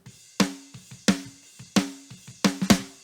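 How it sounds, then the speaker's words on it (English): Dry, unprocessed snare drum hits land in a loose groove, loud accented strikes mixed with softer ghost notes, each a sharp crack with a short ringing tail and no voices on top. "So with nothing on it, it sounds like this"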